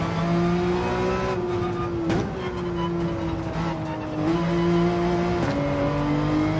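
A Porsche engine under throttle in Gran Turismo 7 sings loudly and steadily, pitch climbing and dropping with gear changes and a few sharp transients, with tire noise woven in.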